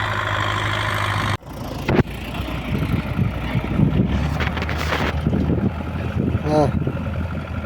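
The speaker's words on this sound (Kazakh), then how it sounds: "жерди айдап атат" A tractor plowing a field, its engine droning steadily beneath heavy wind buffeting on the microphone, with a sharp drop and a jolt partway through and voices talking over it.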